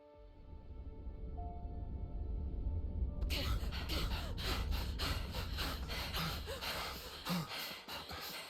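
A Xenoblade Chronicles 3 character pants hard while running, with heavy rhythmic breaths over layered game sound and music that grows busier partway through.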